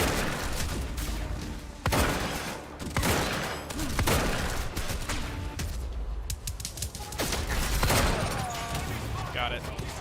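Enemy gunfire rattles in the video game Quantum Break in rapid bursts and single cracks over ten seconds, loud and close, while someone talks over it.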